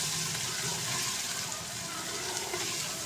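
Chicken and spices sizzle in a pan with a steady, dense hiss that runs unbroken from start to finish.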